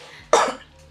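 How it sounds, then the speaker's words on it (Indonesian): A single sharp cough, close and brief, from a man during a casual podcast conversation. "Batuk"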